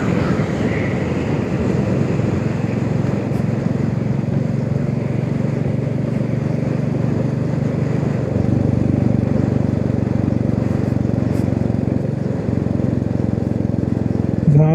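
A motorcycle engine-braking down a steep winding ghat road in Maharashtra, its low steady rumble continuous and close throughout, with a slight shift in pitch partway through.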